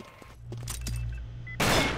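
Gunfire crackles in the online shooter Combat Arms during a clan war match: a few scattered shots, then a loud, sustained burst of rapid fire close by.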